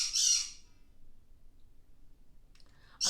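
A pet bird lets out loud, harsh squawks in two bursts, one at the start and another at the very end, with near silence between them.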